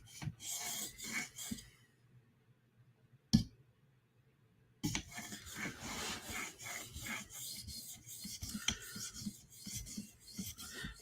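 A customer's knife is sharpened on an 800 grit whetstone, with repeated close raspy strokes in two bursts around a few seconds of near silence and one sharp tap.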